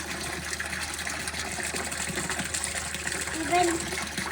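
Water gushes steadily into an underground sump tank at a house, a continuous rushing pour with a voice faintly present.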